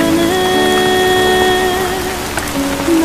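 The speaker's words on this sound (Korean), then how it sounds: "너 비 맞아." Steady rain falls in a constant broadband wash, with sustained musical tones layered over it throughout.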